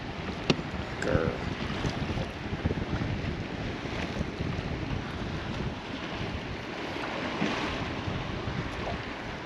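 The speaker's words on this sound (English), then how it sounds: "Yes, more wind, thank you." Steady wind buffets the microphone while waves slap against a boat on a lake during smallmouth bass fishing, a continuous rough rush with occasional sharper knocks and splashes.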